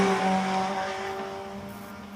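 A Vauxhall-powered 2-litre race car climbing the Shelsley Walsh hill climb course, its engine droning at a steady high pitch as it passes nearby, then fading slightly as it pulls away.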